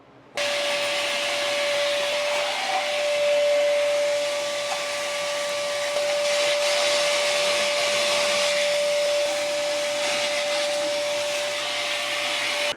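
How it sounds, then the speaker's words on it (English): Grinding and cleaning a metal plate in a workshop gives a continuous loud whooshing, motor-driven whine with a steady high tone, running unbroken for over twelve seconds after a brief quiet start. "Grinding and cleaning and grinding and cleaning."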